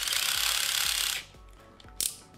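A cordless screwdriver ratchets as it unscrews a stiff screw, a loud continuous clicking whir that stops abruptly, followed by quieter handling clicks and one short sharp noise.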